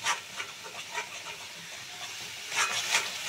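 Onion and ginger-garlic paste frying in a pan for a prawn malai curry, a steady soft sizzle and hiss with light stirring scrapes, swelling louder near the end.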